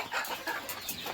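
Chickens at a village farm cluck and scratch softly in a brief, faint burst of several quick calls over rustling background noise.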